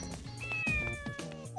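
A cat meows inside the video game Shin Megami Tensei Devil Summoner: Raidou Kuzunoha vs. The Soulless Army, several drawn-out, wavering mewls in quick succession, close and clear over game music, with no talking.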